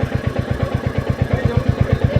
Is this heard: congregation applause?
no